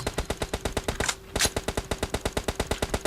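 Rapid automatic gunfire in the mobile battle royale game PUBG Mobile. A long, evenly spaced stream of close shots briefly breaks around the middle and then resumes without speech.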